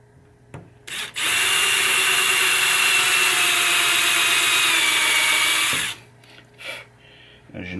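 A power drill bores into the wooden playfield of a 1989 Williams Earthshaker pinball machine, one loud continuous whine of about five seconds, framed by brief handling clicks before and after.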